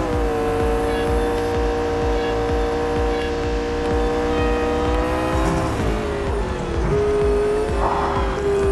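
Several race car engines drone loudly and continuously through a car race, their steady pitch bending and dipping around overtakes, with brief surges of revving and faint tire noise.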